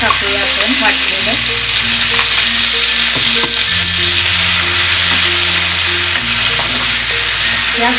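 Ground masala sizzles loudly and continuously in a hot pan with tempered mustard seeds and cumin for a mixed vegetable dish, under a steady low hum.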